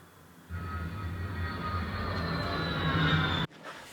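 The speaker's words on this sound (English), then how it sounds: "We had a couple of A10 Warthogs flying really low over our house" Two A-10 Warthog jets fly low over a house, a deep roar with a rising turbine whine that swells over about three seconds and then cuts off sharply as the sound drops away, heard indoors with no talking.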